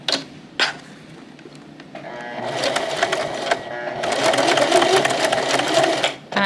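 A domestic sewing machine runs in a steady whirring burst as it stitches across a fabric hat, preceded by a few short clicks and starts, fairly close and loud with no talking.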